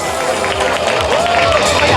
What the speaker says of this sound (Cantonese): 哇，歡呼聲好大聲啊